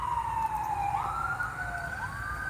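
Emergency siren passing on a road near a campsite: a continuous wailing tone sweeping up and down, moderately distant and steady over faint outdoor ambience, with no talk.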